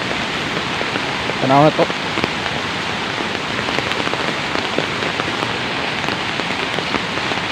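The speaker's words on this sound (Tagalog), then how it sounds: "kusog kay tingog sa baha sa sapa ba" A flooded creek rushes loudly during heavy rain in Mindanao, a dense, steady roar of water filling the whole stretch, with a brief spoken remark early on.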